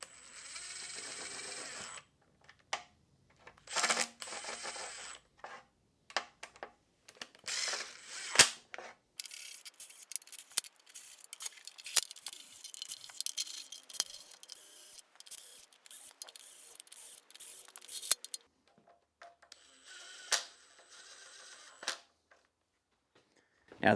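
A power gun runs in the sump bolts on a Land Rover 2.25 engine during a rebuild, giving short ratcheting bursts one after another with quiet gaps between them.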